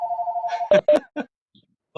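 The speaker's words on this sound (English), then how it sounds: "someone's phone is ringing" A phone rings during a town council meeting, a steady electronic ring tone holding for under a second before stopping, followed by a few brief spoken words.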